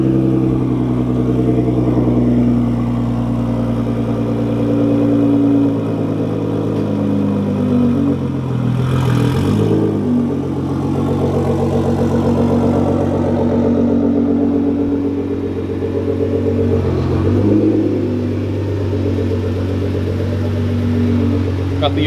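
A BMW M3 engine rumbles steadily at idle, its low exhaust drone constant throughout with a couple of brief revs swelling up around the middle and again later, close by and fairly loud.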